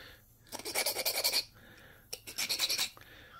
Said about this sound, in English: I need to file that.